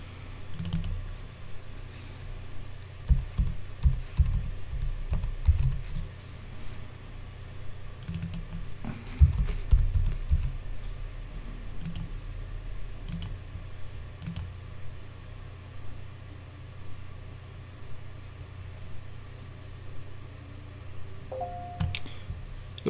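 Computer keyboard typing and mouse clicking at a desk, sounding as irregular bursts of light keystrokes and sharp clicks with pauses between them, close and moderately quiet.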